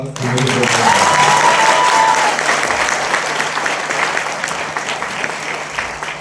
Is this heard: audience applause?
yes